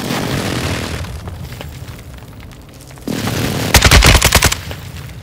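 Air strike in Call of Duty: Modern Warfare II, a low rumble that jumps to a heavy barrage, then a close, loud burst of rapid gunfire and explosions before fading.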